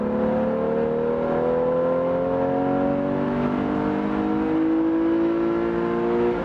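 Revving from a 2015 Porsche 911 Carrera GTS with a manual gearbox. The engine note climbs steadily and loudly through the revs without a break, heard from inside the car under a constant road roar.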